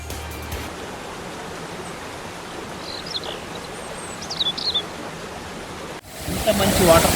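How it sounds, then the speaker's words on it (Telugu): Kothapalli waterfalls near Lambasingi give a steady, even broadband rush of falling water from a moderate distance, unbroken for several seconds before the sound shifts abruptly near the end. "ఇంత మంచి వాటర్ ఫాల్స్ అనేది చాలా తక్కువ మందికి తెలుసు."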